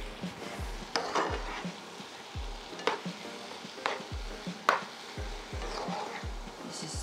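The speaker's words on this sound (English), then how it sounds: "Give that a good mix." Spoon stirring a vegan ackee mixture in a pan, with repeated scraping strokes and soft clacks against the metal at an uneven rhythm, close and alone over a faint sizzle.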